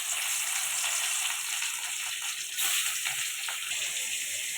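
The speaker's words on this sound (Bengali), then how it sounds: "এবার মাছটা দিয়ে দেবো। তেল গরম হয়ে গেছে" Spiced rohu fish pieces frying in hot oil in a wok (kadai), a steady, fairly faint hissing sizzle that continues evenly throughout with a slight swell near the middle.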